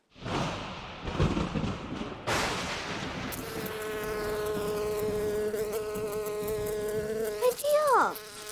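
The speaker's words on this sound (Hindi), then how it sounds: "भैया, इन बादलों में से भिनभिनाने का आवाज कैसे आ रहा है?" A large hornet or bee buzzing loudly and steadily close by, a sustained droning hum that wavers in pitch and swoops at the end, preceded by noisy ambient rumble.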